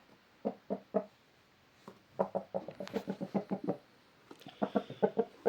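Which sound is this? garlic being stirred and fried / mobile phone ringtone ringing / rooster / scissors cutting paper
rooster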